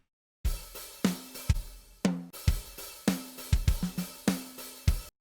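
A programmed drum beat plays on its own, punchy kicks and snappy snares in a steady pattern with quieter ghost hits between them.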